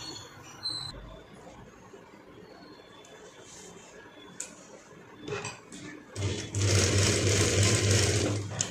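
A sewing machine stitches the corners of fabric for a child's dhoti. Near the end it starts up loud and close and runs steadily after quieter handling sounds.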